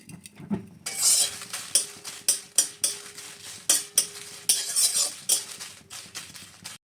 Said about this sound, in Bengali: এবার এই শুকনো লঙ্কাটাও হালকা আছে ভেজে নেব।